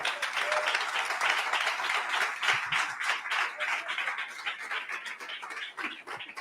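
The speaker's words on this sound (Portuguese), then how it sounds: "Dê um aplauso a Jesus" A church congregation claps steadily, dense applause sustained throughout at moderate distance, fading slightly toward the end.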